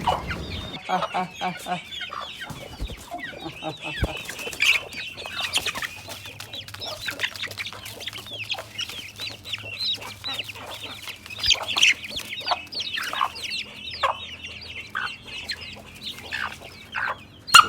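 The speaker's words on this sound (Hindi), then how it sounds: "ये जो हमारी मुर्गी है ना, इसका नाम मैंने हैला रखा है" Aseel hens cluck steadily throughout, a busy overlapping chatter of several birds close by, with occasional louder squawks and a faint voice now and then.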